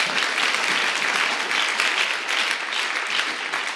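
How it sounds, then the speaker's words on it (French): An audience applauds the reading of scripture at a French-language church sermon, steady, full applause from a large crowd lasting throughout. "Est-ce qu'on peut acclamer la parole?"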